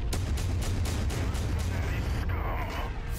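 Mech weapons fire in MechWarrior 5: Mercenaries, a rapid string of heavy booming shots in a steady rhythm, with a deep rumble underneath, loud and close throughout.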